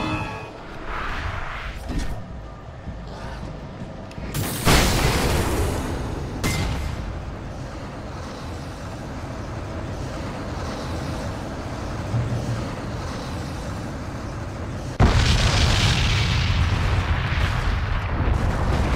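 Alan Wake video game explosion: a loud, sudden boom with a roaring rumble that carries on for several seconds, then another heavy blast near the end, over continuous game noise.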